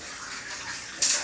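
Water runs from a tap while soybeans are rinsed for making tempeh, a soft continuous trickle that swells into a louder splashing burst near the end.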